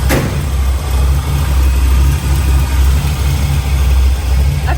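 A truck engine idles steadily after an exhaust leak repair, with a low, even rumble and no leak noise. It is loud and close, and no one talks over it.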